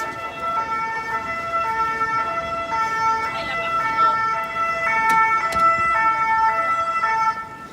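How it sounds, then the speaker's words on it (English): A two-tone SAMU ambulance siren wails steadily and loudly throughout on rue Saint-Antoine in Paris, alternating high and low pitches, with faint street traffic noise underneath. "This is a SAMU. The SAMU is the ambulance service."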